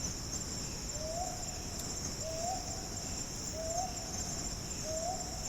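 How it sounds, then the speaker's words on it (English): A Hume's hawk owl gives four evenly spaced, soft rising hoots roughly a second apart, faint and distant, over a steady high chorus of crickets in a quiet night setting. "This is a call of a Hume's hawk owl."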